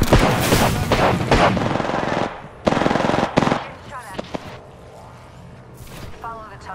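Rapid automatic gunfire in the video game Apex Legends, loud bursts dominating the first few seconds, then isolated shots and smaller impacts trailing off over quieter game sounds.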